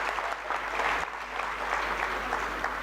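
An audience at a bank's foundation day celebration applauds after a performance, a dense, steady wash of many hands clapping continuously at moderate distance with no talking.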